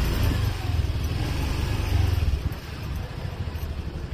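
Motorcycle engine rumbling steadily up close while riding through a narrow lane of old houses in Osaka, Japan, loud and continuous with slight dips in revs.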